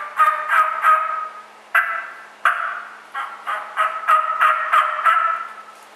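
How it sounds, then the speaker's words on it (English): Wild turkey gobbling in response to a hunter's tree yelp calls, a series of loud, rattling bursts repeating in quick succession, with several separate gobbles spread across the stretch. "He'll gobble to it."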